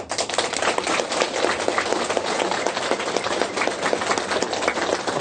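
A hall audience claps together after a Buddhist monk's dharma talk, a dense, steady crackle of many hands that holds evenly across the whole stretch with no voices.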